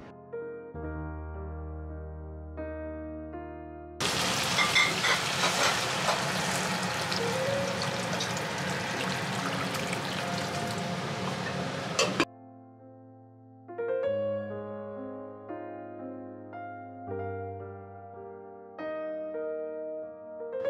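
Broth poured into a pan of frying taro for hilsa fish curry, a loud, steady rushing pour with sizzle lasting several seconds, between quieter stretches of music.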